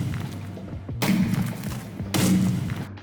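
Machine gun rounds firing from a cannon contraption in Minecraft's Create Colonies, two dense bursts of rapid thumping shots separated by a short pause, close and fairly loud.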